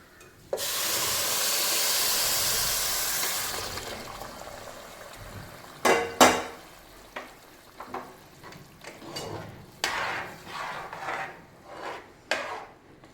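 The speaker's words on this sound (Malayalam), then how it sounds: "വെള്ളം തിളപ്പിച്ച് വെച്ചിട്ടുണ്ട് ഇതിലേക്ക് വെള്ളം ഒഴിച്ചു കൊടുക്കാം" Boiling water is poured over fried rice being made into ghee rice, a loud steamy hiss lasting about three seconds, followed by scattered clanks and scrapes of utensils, close by with no talk.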